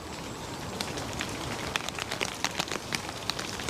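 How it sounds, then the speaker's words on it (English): Rain drips from a forest canopy in gusty wind, a steady close patter of drops with scattered louder splats over a constant wash of noise. "it's the sound of the canopy that's been rained upon"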